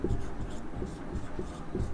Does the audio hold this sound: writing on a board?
yes